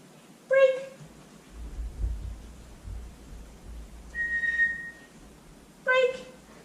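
Short sharp dog-training whistle blasts used as a sit cue, two bright pips at the start and end with a longer steady whistle tone between, fairly near against a quiet room with low rumble.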